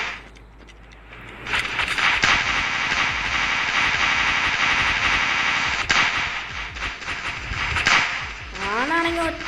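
Rapid, dense gunfire from the Rope Hero video game runs nearly continuously for most of the stretch, loud and layered with sharp cracks, ending with a brief tonal game effect.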